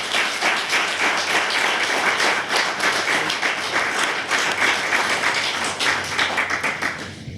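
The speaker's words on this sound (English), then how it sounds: "Please join me in a round of applause for such a heroic group of men that sacrificed so much for our country" An audience claps loudly and steadily at a Purple Heart ceremony honoring veterans in a town setting, with dense sustained applause that fades slightly at the very end.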